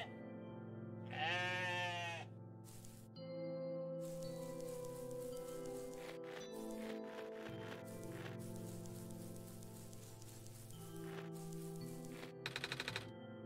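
A sheep in the video game OneShot gives one clear wavering bleat over soft game music, followed by quiet clicks and a short rapid tapping burst near the end.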